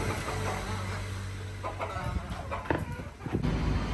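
Chickens pecking at feed in a coconut grove cluck softly nearby among steady background noise, with short scattered calls and a low hum throughout.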